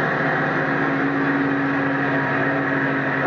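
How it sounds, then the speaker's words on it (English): A 1990 Dodge car engine runs at a steady idle just after starting. It gives a continuous, fairly loud hum with a droning low tone throughout. "That's the exhaust from my car. I'm starting it up."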